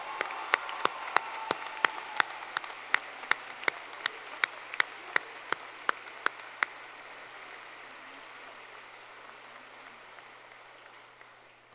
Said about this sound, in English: Please give these retirees a round of applause.